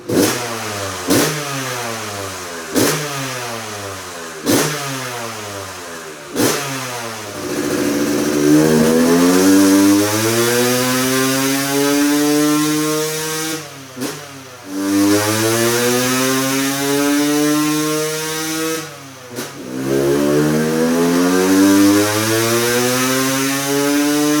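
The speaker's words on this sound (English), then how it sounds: "we just managed to get it together in time to try to throw it on the dyno" A Yamaha YZ250 two-stroke dirt bike on a dyno: several sharp, loud revving blips, then long sweeping pulls up through the rev range, each ending in a sudden cut and drop back to idle.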